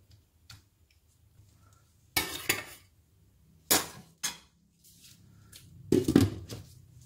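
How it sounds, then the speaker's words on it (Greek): A lid is set on a cooking pot while vegetable pasta with mushrooms is being made, giving several short metallic clanks and clinks spaced a second or more apart in a quiet kitchen, the last one ringing slightly longer. "Κλείνουμε το καπάκι."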